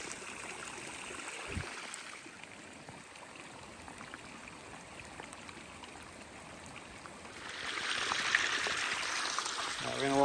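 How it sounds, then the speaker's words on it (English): A stream flows across a northern Arizona off-grid homestead creek area, a steady broadband rush of running water that grows louder and fuller toward the end. "the water's rolling through over there."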